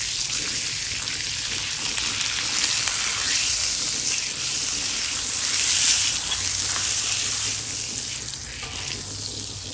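Butter sizzles and crackles on a hot Blackstone griddle, a loud, steady frying hiss that runs unbroken and swells slightly midway.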